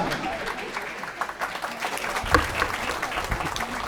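Audience applause at a Hindi poetry gathering welcoming poet Kumar Amit, a steady patter of clapping from a modest crowd that holds at moderate level for several seconds, with faint voices mixed in.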